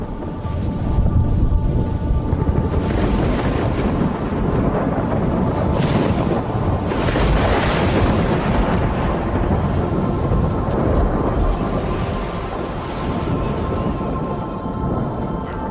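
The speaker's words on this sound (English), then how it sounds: "Not only a severe electrical storm heading north" Thunder from a severe electrical storm rumbles continuously, a deep rolling roar with wind-like noise swelling and easing, loud and broad for the whole stretch, with no talking.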